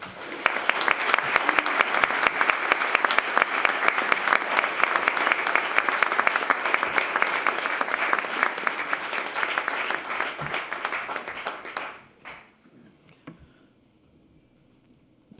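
A school memorial service audience claps warmly and continuously for about twelve seconds, close and full, then the applause fades quickly into near quiet.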